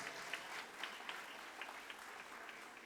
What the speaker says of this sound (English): Ladies and gentlemen, please give a big round of applause.